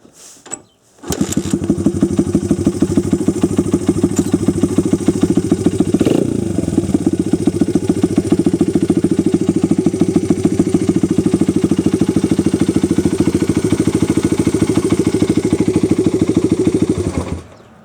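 A 2002 Honda XR100 motorcycle, not run in a couple of years, starts up and runs steadily, a close, loud, evenly pulsing single-cylinder putter that holds for the whole stretch before cutting off.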